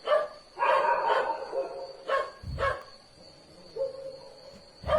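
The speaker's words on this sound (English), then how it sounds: "the dogs are going super crazy over here" Dogs bark excitedly outdoors, several sharp woofs in uneven bursts with a short yip, fairly close, with a steady high electronic whine underneath.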